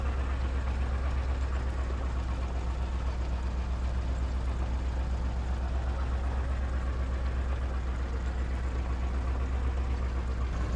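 A loud, constant low rumble from a tractor engine pulling a cultivator through a wheat field, running steadily with no change for the full length and no other sounds.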